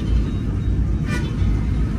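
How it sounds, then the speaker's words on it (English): Old Dhaka street traffic rumbles steadily up close, with a short car horn toot cutting through near the middle, engines and road noise filling the background throughout. "The traffic horns"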